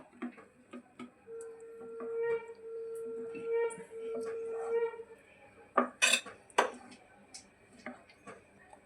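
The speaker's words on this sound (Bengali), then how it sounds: "খাবার সোডাটাও এবার খুব ভালোভাবে এর সঙ্গে মিশিয়ে নেব" A spoon mixes baking soda into uttapam batter in a bowl, giving light scraping and a scattering of sharp clinks against the bowl, with a faint steady tone in the background.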